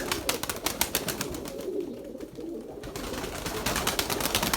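Pigeons coo close by in a loft of free-flying birds, a dense run of soft throaty calls with rapid fluttering wingbeats mixed in, steady and fairly loud.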